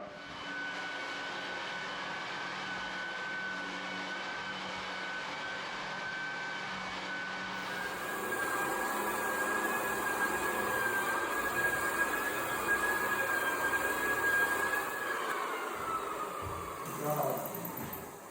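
A floor sander with a 60 grit disc grinds across old wood floorboards in a farmhouse with a steady loud drone and whine that rises in pitch midway, close and unbroken, with faint voices underneath.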